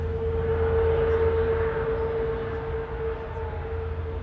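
A heavy airliner roars at Manchester Airport during its landing, a broad steady engine rumble with a sustained whine, loud at first and easing slightly toward the end.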